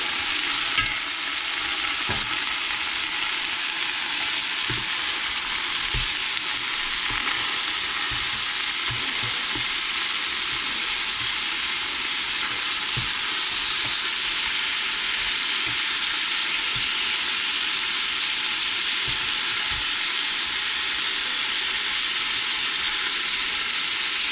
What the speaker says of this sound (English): Okay, they're seared enough on that one side. We're going to go ahead and flip these.